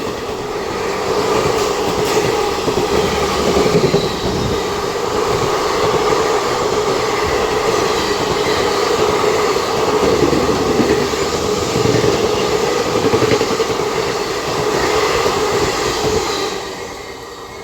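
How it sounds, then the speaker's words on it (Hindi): A special train, the Gaya–New Delhi Mahabodhi Express, passes Prayagraj Chauki station close by, producing a sustained loud rail rumble with rattling wheels and faint squeal before fading slightly at the end. "कोई ट्रेन निकल रही है प्रयागराज चौकी से।"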